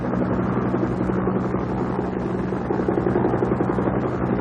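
A Vietnamese Air Force helicopter flies north from the South China Sea over the flooded Mekong delta, its rotor and engine roar loud and steady throughout, with no voices.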